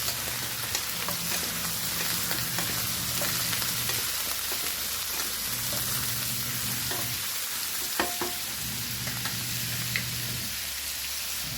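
Pork bones sautéing with onions in a pan, a continuous sizzle with scraping and stirring, steady and close with occasional clinks and no voices.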